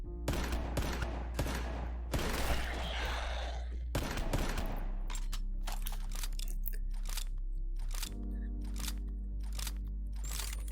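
Gunfire in the VR space shooter Wandering in Space, a rapid series of sharp close shots in bursts with clicky reload handling between them, some volleys fired in quick succession over a low steady hum.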